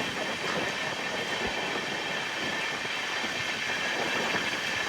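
Inside the Ratnachal Express, an LHB coach train running from Vijayawada toward Visakhapatnam behind a WAP-7 electric locomotive, a steady rolling rumble and hiss of wheels on track carries on continuously at moderate volume.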